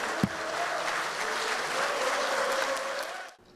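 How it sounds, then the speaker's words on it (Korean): A room of lawmakers at a party meeting claps steadily for Ahn Cheol-soo, a dense sustained applause with a faint voice threading underneath, ending abruptly after a few seconds. "안철수 국민의당 대표님께 큰 박수 부탁드리겠습니다."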